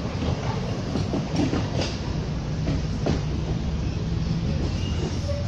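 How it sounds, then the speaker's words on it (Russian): A tram passes on a nearby tram line outdoors, a steady broadband rumble with faint rail clatter throughout, fairly close and continuous with no talk. "Здесь рядом трамвайная линия."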